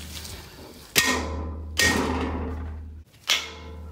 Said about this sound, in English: Now let's hammer it. It's going to be loud.